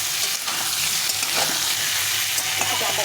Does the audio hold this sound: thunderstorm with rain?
no